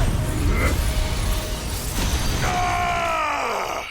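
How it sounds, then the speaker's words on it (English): A judgment bolt attack in Final Fantasy XVI lands as a dense, roaring burst of crackling energy and rumble, followed by a falling, ringing tonal sweep that fades out, loud and continuous. "Bring down the judgment bolt."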